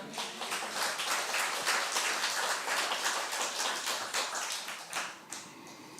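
Congregation clapping together during a church anniversary thanksgiving service, a dense, steady wash of many hands at moderate volume that thins out near the end.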